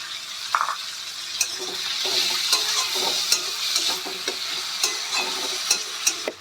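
Chopped tomato fries with onions in a pan under a steady sizzle, with regular sharp clicks and scrapes as a spoon stirs against the pan, close and without talk.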